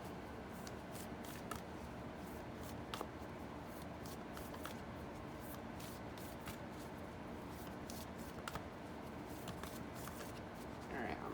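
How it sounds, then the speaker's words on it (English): Playing cards riffle and shuffle continuously with soft papery flutters and small snaps, steady throughout with faint background noise and no talk. "Alright, I'm shuffling."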